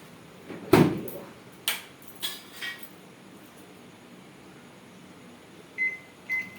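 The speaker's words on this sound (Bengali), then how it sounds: "এটা মাইক্রো ওভেন, ওভেনে দিয়ে" Microwave oven running with a faint steady hum, broken by a sharp door clunk, a few handling knocks and a pair of short electronic beeps near the end.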